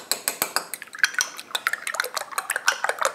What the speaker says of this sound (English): mixing this a little bit.